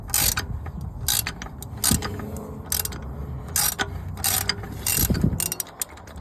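A tool loosens the oil filter on a 2016 Toyota Highlander, producing close mechanical ratcheting clicks in quick clusters with brief pauses, over a low background rumble.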